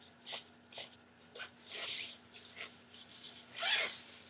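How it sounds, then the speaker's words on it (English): A zipper on a Green Ranger cosplay costume is pulled open in a series of short rasping bursts, close by and moderately quiet, with a longer drawn-out zip near the end. "It's got a zipper"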